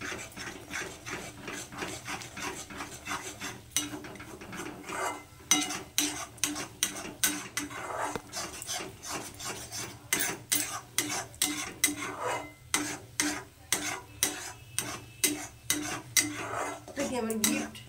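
Egg bhurji frying in a pan, heard as repeated metal utensil scrapes and clanks against the pan in a busy stirring rhythm, close and fairly quiet, with no voices.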